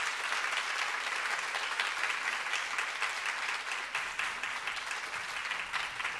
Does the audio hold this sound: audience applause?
yes